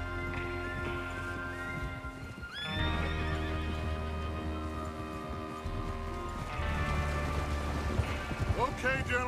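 Horses neigh and whinny repeatedly amid clip-clopping hooves and steady rain in Red Dead Redemption 2, a busy close scene with voices talking underneath.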